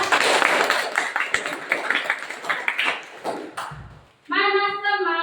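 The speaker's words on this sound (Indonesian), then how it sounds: "Ayo coba tepuk tangan" A fifth-grade classroom claps hands together in a burst of uneven, overlapping claps that fades out, followed by a clear tonal chime.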